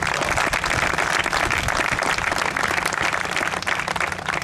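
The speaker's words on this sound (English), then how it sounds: "Let's give them a big round of applause." Crowd applauding at a groundbreaking ceremony for a police patrol station and crime lab campus, a continuous loud burst of many hands clapping, steady from start to end.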